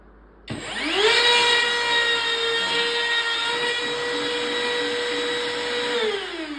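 A power tool cutting a 3/4 inch board during an arcade cabinet restoration starts abruptly, holds a loud steady high whine for about six seconds, then winds down, with no talk.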